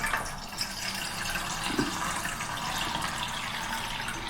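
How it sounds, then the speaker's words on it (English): Water being poured into a Trangia pot from a Trangia Spirit burner B25 set, a steady, soft splashing trickle that lasts the whole stretch, close and fairly quiet with no voices. "It's actually fourth portion of water we'll put in"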